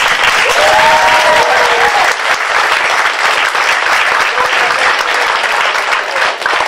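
A university debate audience claps loudly and continuously for the event's organiser, a thick wall of applause filling the room throughout, with a faint voice briefly audible near the start.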